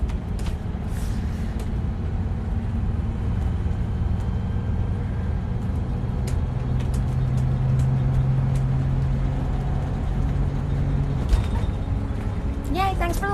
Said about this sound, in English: it's going to be bumpy just because the bus is bumpy.